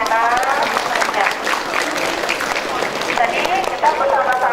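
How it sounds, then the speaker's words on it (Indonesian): A school audience claps in sustained, dense applause at a project event, steady and fairly close, with voices faintly mixed in. "Baru minta tepuk tangannya sampai 3 menit."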